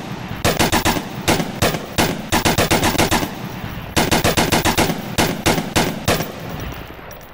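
Loud, close bursts of automatic rifle fire in the VR shooter Onward, fired in several rapid strings of shots separated by short pauses, with no talking.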